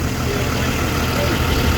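Diesel truck engine idling steadily after a touch of throttle, a constant low rumble and clatter filling the whole clip, close and loud with no speech over it.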